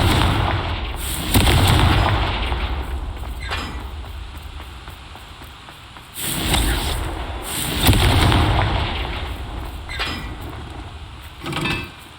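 Confringo fire spells bursting in the Hogwarts Legacy video game, several loud booming explosions with rumbling tails spaced across the stretch, amid steady background game ambience.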